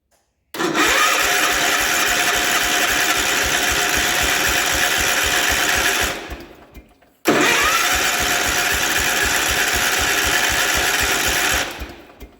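A 1967 Gravely 430 walk-behind tractor, a one-owner barn find, cranks and catches twice on starting fluid, each time running loudly and steadily for several seconds before sputtering out and dying.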